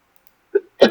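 A short, sharp sneeze sounds close by, a faint intake followed by a louder explosive burst, all within about a second in an otherwise quiet room.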